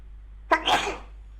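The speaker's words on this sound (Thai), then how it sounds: "กำลังจามอยู่เลยแป๊บนึงดิ" A single sharp sneeze from a person close to the microphone, a quick inhaled catch followed by a bursting exhale, alone over a faint steady background hum.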